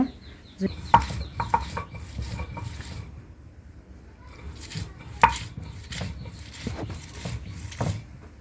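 Chopped onions ground by hand on a stone pata slab, giving coarse, uneven scraping and knocking strokes at close range, with faint background noise in between.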